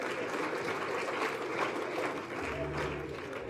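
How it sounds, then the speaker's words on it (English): Sustained applause from an audience honoring anti-corruption commission staff, a steady wash of clapping at moderate level with no clear breaks, a faint hum lingering underneath. "Please all put hands together for we commission and level clap for them."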